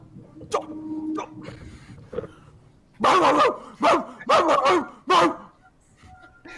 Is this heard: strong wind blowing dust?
no